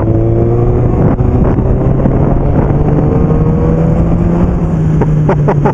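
A BMW K1200S motorcycle accelerates hard in first gear, its loud, close engine note climbing steadily in pitch over a constant roaring drone, with no talk.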